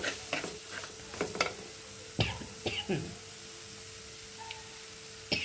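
Chilies frying in a pan for a tamarind curry, a low sizzle beneath a series of sharp clinks and scrapes from stirring, irregular and close, with brief voice sounds between the knocks.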